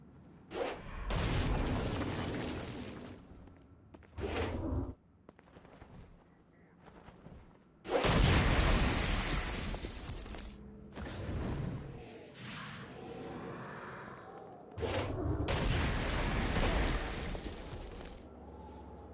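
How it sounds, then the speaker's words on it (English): Stone Blast explosions and gunfire from Saints Row: Gat Out of Hell, fought against flying demons: loud, heavy booms and bursts of shots come in several separate waves, with rushing whooshes and quieter rumbling between them. "Stone Blast is especially useful on flying demons like this one."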